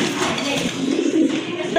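Pigeons coo softly and steadily, close by, in a short burst of low murmuring calls.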